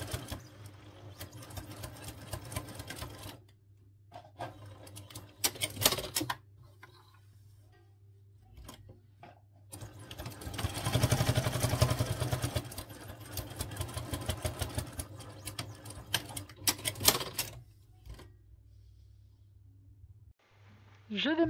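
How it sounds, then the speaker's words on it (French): A sewing machine runs a straight stitch on velvet for a pouch, its motor whirring in bursts with a steady low hum underneath, a long loud run in the middle, and someone speaking French at times. "Je viens coudre au point droit, pareil à 1 cm du bord."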